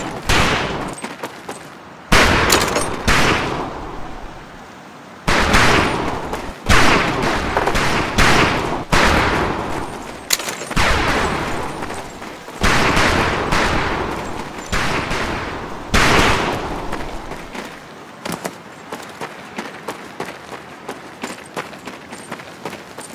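Loud bursts of rifle gunfire at a training camp range in Medal of Honor: Pacific Assault, repeated volleys and rapid shots across the clip with brief pauses between, no talking.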